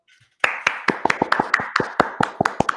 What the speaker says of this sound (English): I think a little round of applause.